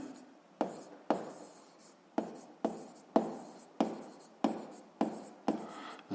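A pressure formula for a physics exercise is written out by hand in about ten close, rhythmic scratchy strokes, each starting sharply and trailing off, heard alone in a quiet room.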